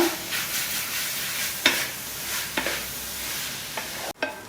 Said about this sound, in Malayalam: ഇടയ്ക്കിടയ്ക്ക് ഓരോ രണ്ട് മിനിറ്റോ അഞ്ച് മിനിറ്റോ കൂടുമ്പോൾ ഇതുപോലെ ഇളക്കി ഇളക്കി കൊടുക്കുക